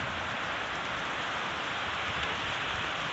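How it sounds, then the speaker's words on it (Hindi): Heavy rain pours down during a violent storm, a dense, constant roar of drops hitting surfaces close by, loud and unbroken throughout with no voices. "देखो कितनी खतरनाक बारिश पड़ रही है"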